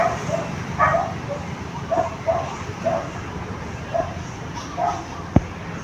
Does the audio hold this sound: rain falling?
no